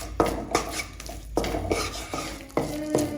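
A thick maida and sugar mixture for halkova stirred in a pan over low flame, with repeated scraping strokes of a utensil against the pan at a steady, roughly half-second rhythm, close and clear.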